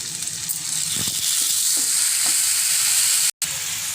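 Restaurant-style gobi manchurian is stirred with soy sauce in a hot pan, loud constant sizzling with soft scraping strokes of the spoon, cut by a brief dropout near the end.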